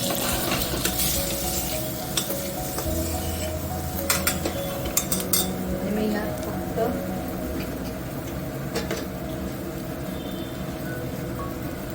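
Spoon stirring stuffed brinjals coated in masala inside a pot for a Maharashtrian stuffed brinjal curry: steady scraping and soft clinks with a faint sizzle beneath, continuous throughout, with some background noise.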